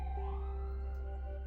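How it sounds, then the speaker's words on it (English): A siren wails faintly in the background on a Brooklyn street, a steady tone that holds through the short moment with no speech. "You might hear a siren in the background."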